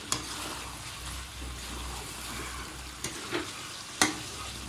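Chicken pieces with chicken masala frying and being stirred in a pan, a steady sizzle broken by a few sharp scraping stirs near the end.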